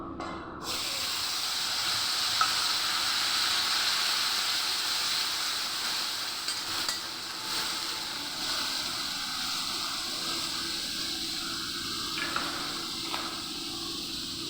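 Paste of ginger, onion and green chili sizzling and hissing steadily in a hot pan, a continuous close frying hiss throughout with no talk.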